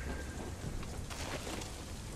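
Heavy rain hisses steadily in a Crysis 3 game scene, a dense, even wash of falling water with a low rumble beneath it.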